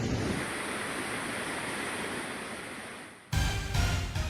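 Heavy rushing floodwater after intense rain, a loud steady broadband roar close by that fills the first three seconds, then cuts to a harsher, louder burst of churning water with no voices.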